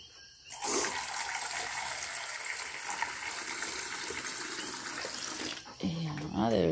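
Water gushing steadily from a tap or spout for several seconds, a broad close hiss that cuts off near the end, followed by a brief voice.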